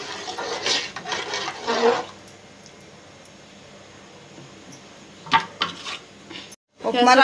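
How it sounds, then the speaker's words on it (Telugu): Upma semolina (rava) being stirred into boiling water in a pot for rava vadiyalu, heard as scraping and clinking of a spoon against the pot in short bursts with a quiet bubbling pause between. "ఉప్మా రవ్వ వేసుకున్నాక ఇక తిప్పానండి"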